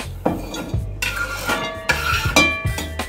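Chopped salad ingredients are moved into a bowl, giving a run of close clinks and scrapes of utensil against dish, about six distinct knocks spaced irregularly.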